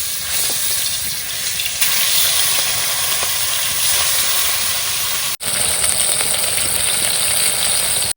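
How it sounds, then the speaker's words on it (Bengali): Fish fries in hot oil in a home kitchen, a loud, steady, dense sizzling hiss that continues throughout with a brief dip midway. "তেল গরম হয়ে গেছে এবার মাছ ভাজাটা ফুটিয়ে দিলাম"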